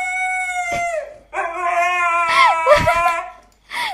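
Several dogs howl together up close, long wavering tones that rise and fall, broken by short yelps and a brief pause near the end.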